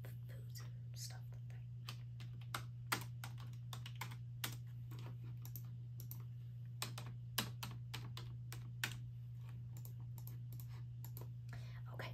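Close quiet typing and clicking on a computer keyboard in a resort front-desk roleplay, irregular soft keystrokes with occasional sharper clicks over a steady low hum, with whispering throughout.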